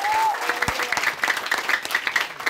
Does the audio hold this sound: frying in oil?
no